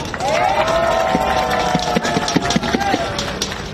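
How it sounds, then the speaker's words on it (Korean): A crowd at an outdoor election campaign rally in Dongdaemun, Seoul, cheers and claps, with raised voices and whoops over a dense, close wash of applause. "박수 한번 쳐주십시오"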